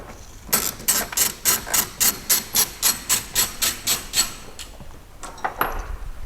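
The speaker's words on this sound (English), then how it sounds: "those 3 10mm bolts are removed" 10mm bolts being removed from the air filter housing of a 2021 Fiat Panda 4x4, heard as a rapid, even series of about fifteen hissing, ratcheting pulses from a power tool at close range, followed by a few clanks.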